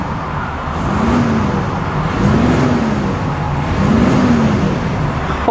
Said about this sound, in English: let's give it a couple of revs here